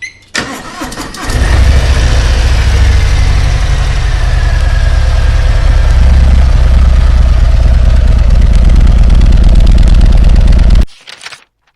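A Harley-Davidson Heritage Classic motorcycle engine starts up and settles into a loud, steady, deep idle close by, rumbling without a break for about ten seconds before cutting off.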